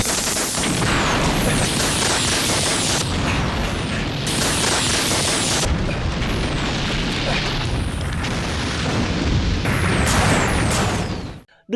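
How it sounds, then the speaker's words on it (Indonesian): A firecracker factory blows up in a film scene: a long, loud roar of blasts with repeated sweeping whooshes and crackling bursts, ending abruptly. "Dengan meledaknya pabrik petasan, ketiga penjahat yang sudah tewas itu pun gosong segosong-gosongnya."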